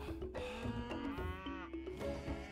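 Cows mooing in Age of Mythology, several overlapping drawn-out lowing calls in close succession, clear and loud with no talk over them.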